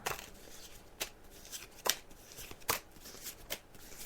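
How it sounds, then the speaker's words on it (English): A deck of playing cards being shuffled, giving several quick riffling bursts spaced unevenly across a few seconds, close and fairly quiet with no talking. "as you can hear, I'm just shuffling the cards now"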